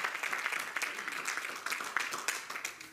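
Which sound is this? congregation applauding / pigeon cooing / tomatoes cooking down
congregation applauding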